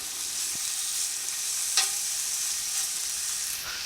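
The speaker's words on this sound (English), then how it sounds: "We want to get a good sear and a good color on it." Steak bites sear in avocado oil in a hot pan, giving a steady, close sizzle and crackle with one brief clink partway through and no talking.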